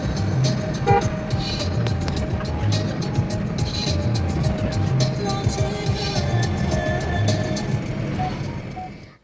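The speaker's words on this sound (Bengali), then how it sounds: "আর রানা এখানে মনোযোগ দিয়ে গাড়ি চালাচ্ছে" A car driving along a rural road near Bodaganj, with steady engine and road noise throughout and a few light horn toots over the top.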